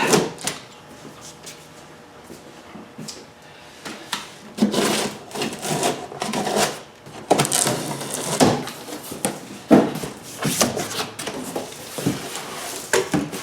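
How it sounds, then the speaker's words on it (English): Someone cuts open a cardboard box holding a new PowerSmart 3-in-1 lawnmower. Close scraping, ripping and tearing sounds come in irregular bursts with rustling between them. "Let's cut open this box and we'll see what we got inside."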